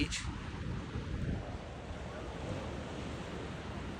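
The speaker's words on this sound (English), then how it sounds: "The waves are not really that choppy." Calm, gentle ocean waves wash steadily at Deerfield Beach on a low-wind day, a continuous broad surf hiss with light wind noise on the microphone and no talking.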